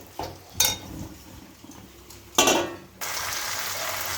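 Prawns fried and now sautéing with jackfruit in a pan for a Bengali dish, with a couple of sharp utensil clanks against the pan, then a steady loud sizzle.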